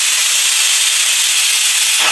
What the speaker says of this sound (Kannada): 2 ವಿಷಲ್ ಆಗಿದೆ, ಚೆನ್ನಾಗಿ ಬೆಂದಿದೆ